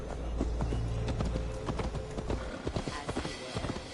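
Horse hooves in Assassin's Creed Valhalla, galloping through a Gloucestershire forest, a quick rhythmic clip-clop of several close strikes over a low rumble that thins out toward the end.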